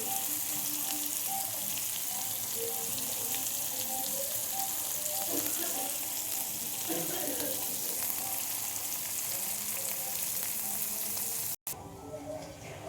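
Ridge gourd poppy seed curry frying in oil gives a steady, dense sizzle throughout, with faint clinks and stirring noises in the middle and a brief dropout near the end.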